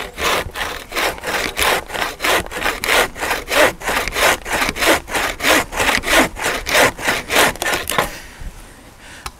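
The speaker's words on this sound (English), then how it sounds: "That's good firewood, and that's the reason I'm cutting it." A bushcraft bucksaw cuts through old, not very hard maple firewood in about twenty quick, even rasping strokes, close and loud, before the sawing stops.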